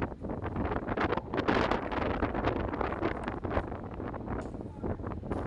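Strong, steady wind gusting on a rooftop and buffeting the microphone, a constant roar with rustling bursts, no clear voices.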